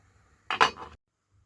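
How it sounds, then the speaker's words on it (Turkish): A single metallic clink and rattle as the lid is set on a cooking pot of soufflé, brief and close, then silence. "Şimdi kapağını kapatıyorum."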